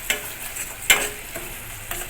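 Katla fish curry with yogurt and salt is stirred and fried in a pan: a few sharp spatula scrapes over a soft, continuous sizzle.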